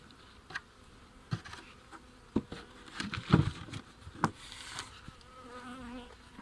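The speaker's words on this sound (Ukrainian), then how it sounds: "Бджілки вже сьогодні гарно облітались." Honeybees buzz around their hives in a steady insect drone, with individual bees passing close by in louder swells and occasional light taps.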